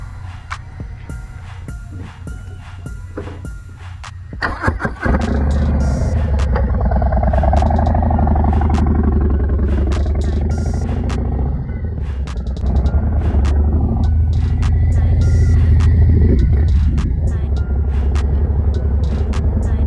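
A Softail motorcycle fitted with a new exhaust starts with a few cranking pulses, then settles into a loud, deep, throbbing idle and rumbles steadily as it rides close by.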